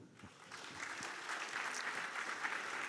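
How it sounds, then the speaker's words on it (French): Applause from the audience at a business awards ceremony: clapping starts light, builds into a full, even wash from a sizable crowd, and continues steadily without speech over it. "vous pouvez les applaudir"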